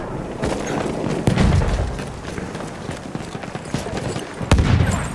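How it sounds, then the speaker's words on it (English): Battlefield 1 gunfire crackles steadily throughout, with two heavy grenade blasts booming out near the start and again toward the end. "Tossing a grenade!"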